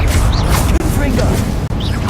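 Confringo blasting spell explosions in Hogwarts Legacy, a dense, loud, continuous crackle of booming magical blasts with two brief dropouts, with voices mixed in.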